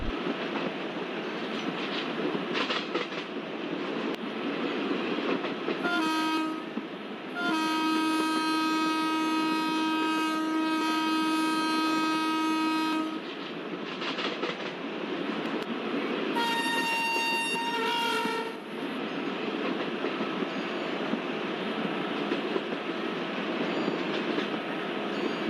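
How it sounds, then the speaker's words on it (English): An Indian Railways locomotive in a train simulator rolls steadily through forest on the Guntakal–Pakala route, a continuous rumbling drive with two long, loud horn blasts partway through, one extended and one shorter. "we can feel that we are driving a train in a forest"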